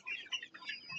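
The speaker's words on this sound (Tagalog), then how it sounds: "Ito naman mga manok." Chickens cluck on a farm, a quick run of close, fairly quiet clucks and calls lasting about a second with no talk.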